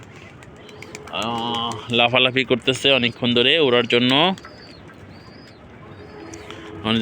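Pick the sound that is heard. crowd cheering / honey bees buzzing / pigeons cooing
pigeons cooing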